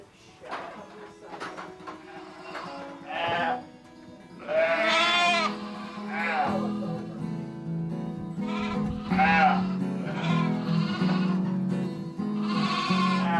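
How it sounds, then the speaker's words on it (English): Lambs bleat repeatedly in a crowded barn, several overlapping calls in quick succession, some close and loud, with bursts of higher-pitched cries throughout. "Before long, the barn is full of lambs."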